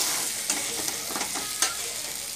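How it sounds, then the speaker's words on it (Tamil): Drumstick masala curry (murungakkai poriyal) gets stirred in a hot pan, a spoon scraping and turning the pieces in gentle strokes over a soft, continuous sizzle, close by and without talk. "எல்லாம் மிங்கிளாகிற மாதிரி நல்லா ஒரு கிண்டு கிண்டி விடுங்க."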